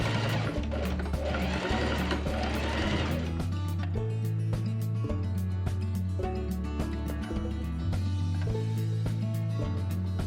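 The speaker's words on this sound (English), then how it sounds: "I flip that seam around to the outside and top stitch along the edge." A sewing machine top-stitches along the edge of a sweatpants seam in a close, steady mechanical whir, with brief pauses and restarts punctuated by small clicks and a faint voice early on.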